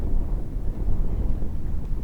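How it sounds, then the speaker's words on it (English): Loud, continuous low rumbling buffet of wind hitting the microphone on a gusty mountain disc golf course, steady and dense with no other sound through it. "Very windy conditions here in the mountains."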